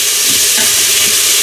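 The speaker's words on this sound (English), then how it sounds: "I'm going to go ahead and brown this for a few minutes." Beef browning in an Instant Pot for pepper steak gives a steady, loud frying sizzle with a faint stirring scrape, unbroken across the short stretch and with no voices.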